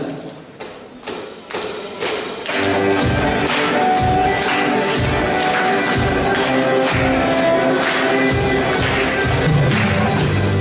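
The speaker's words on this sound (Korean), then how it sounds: "우리 박수 치면서 주님의 이름을 높이기 원합니다." A church congregation claps in rhythm during a Sunday worship song. A few sparse, evenly spaced claps come first, then loud instrumental music and singing join while the steady beat of clapping continues underneath.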